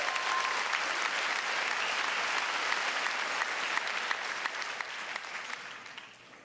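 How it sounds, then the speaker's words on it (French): A comedy show audience at Just for Laughs 2008 claps steadily and loudly for several seconds, the applause slowly thinning and fading toward the end. "Bon, un applaudissement pour Jeff."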